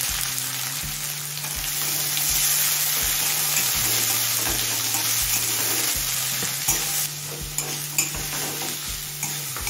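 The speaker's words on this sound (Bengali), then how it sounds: "এবার পেঁয়াজটা হালকা লাল করে ভেজে নেব।" Chopped onions fry in hot oil with whole cumin, a dense continuous sizzle broken by regular spatula scrapes and taps against the pan, near and steady with nobody speaking.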